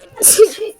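A single sharp human sneeze, close and loud, lasting under a second.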